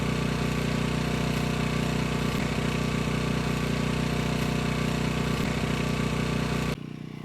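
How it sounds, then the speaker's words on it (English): A Jeep TJ engine runs while the vehicle turns around on an off-road trail, a loud, close, continuous low rumble with steady throbbing that carries on throughout and drops slightly at the very end. "All right, so obviously we've gotten the Jeep turned around."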